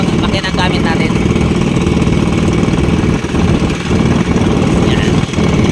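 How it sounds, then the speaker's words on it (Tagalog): The twin engines of a fishing boat run slowly at sea with a steady, loud, low mechanical drone and vibration throughout, with someone talking over it. "Kumbaga mabagal lang ang takbo ng makina."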